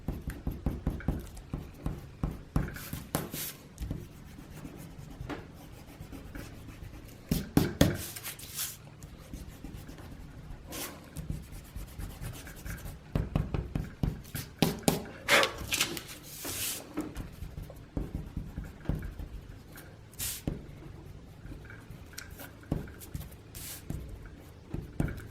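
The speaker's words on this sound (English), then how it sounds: "erase a few of our marks" An eraser rubs out pencil marks on paper, giving intermittent scratchy, brushing bursts of varying length with brief pauses between strokes, close and fairly soft.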